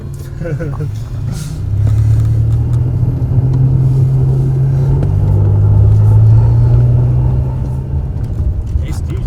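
An old car that cannot go in reverse rumbles along while driving, its engine droning low and steady and rising as it accelerates, with people talking inside over the motor.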